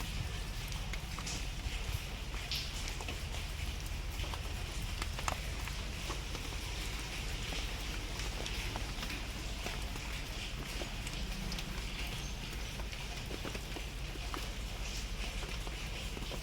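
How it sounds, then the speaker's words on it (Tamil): Light drizzling rain falls steadily in Panruti, a continuous soft patter and hiss on surfaces with a few scattered nearby taps, with no voices. "சாரல் மழை பெய்து கொண்டிருக்கிறது பண்ருட்டியில்"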